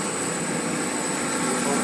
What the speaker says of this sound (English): Compressor